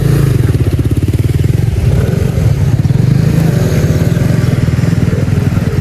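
A motorcycle engine idles loudly and close by with a steady, throbbing putter, rising briefly as if revved.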